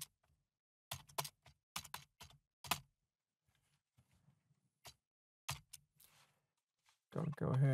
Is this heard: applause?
no